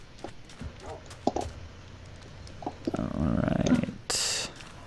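A horse's hooves clop in the blocky video game Minecraft, a few scattered steps followed by a quicker, denser run of hoofbeats near the end, with someone speaking around them.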